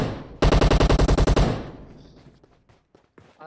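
Gunfire in the battle game PUBG Mobile on the Karakin map: a loud, rapid automatic burst of about a dozen evenly spaced shots, followed by a fading echo and a few faint, scattered distant pops.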